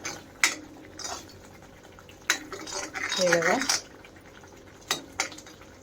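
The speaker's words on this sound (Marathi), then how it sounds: "अजून एक दोन मिनटासाठी आपण हा मसाला चांगला परतून घेऊया" A utensil clinks and scrapes against a pan while ground masala paste is stirred and fried, with a few sharp metallic taps and a soft sizzling stretch in the middle, close and moderately loud.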